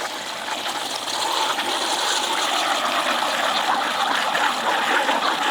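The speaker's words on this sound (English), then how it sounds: "flush it out with water." Water sprays steadily from a garden hose, flushing out clogged bathroom sink drain parts with a continuous hissing, splashing rush and no voices.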